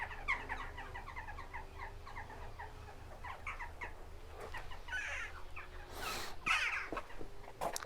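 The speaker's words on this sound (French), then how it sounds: "il y a plein d'oiseaux là. Ce sont pas des pigeons" Numerous birds, not pigeons, chatter and call in overlapping bursts over steady low background noise at the Nuraghe Losa stone tower in Sardinia, with a few sharper squawks standing out near the end.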